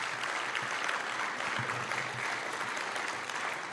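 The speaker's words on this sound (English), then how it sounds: "May I have a big round of applause for all of these sponsors." An audience at a mayor's breakfast event applauds its sponsors with steady, sustained clapping that stays fairly faint and even throughout, with no talking over it.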